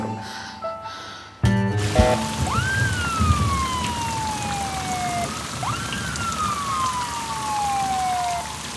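Steady rain falls over city traffic, with a police-type siren sweeping in twice with long falling wails after a brief quiet start, loud against the constant wash of rain and road noise.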